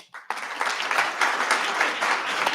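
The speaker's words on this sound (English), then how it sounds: "If we could hold the applause just to try to keep some decor" An audience at a city planning commission meeting breaks into applause, a dense and steady burst of many hands clapping that begins suddenly and holds loud and close for about two seconds.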